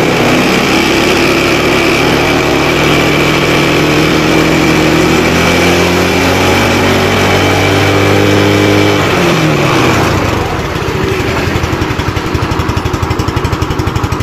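A motorcycle engine being revved while its battery charging voltage is checked: loud, close, sustained revving whose pitch climbs and then falls back to a rough idle.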